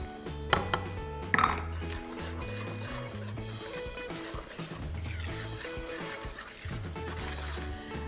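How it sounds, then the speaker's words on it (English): A whisk clinks and scrapes against a bowl while ground walnuts are mixed into carrot cake cupcake batter, with two sharper knocks early on and a steady rhythmic clatter throughout. "just with a whisk, mix it all together"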